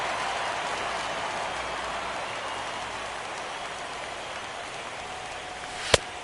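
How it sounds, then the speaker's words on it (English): Heavy rain in the MLB 17 baseball video game hisses as a steady, even wash of noise throughout, with one sharp click just before the end and no talking. "it's really raining hard here tonight"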